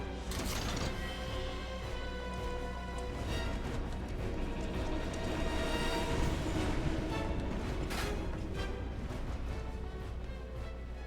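A train rolls along rails in the Final Fantasy VII Remake video game, a steady loud mechanical rumble with clanking bursts, alone and without speech.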